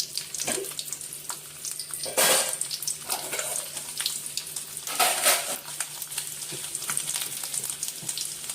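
Oil sizzles steadily as garlic fries for a greens dish, with a few louder bursts of hissing where the pan is stirred, close up and without speech.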